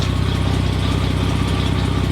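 A restored Series 1 Jaguar E-Type idles steadily nearby, its rapid, even exhaust pulse carrying a puffing blow from a leaking front downpipe on a newly fitted exhaust system, loud and continuous with no talk.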